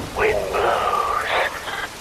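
Steady rain falls in Metal Gear Rising: Revengeance, a dense hiss throughout, with a voice speaking over the downpour.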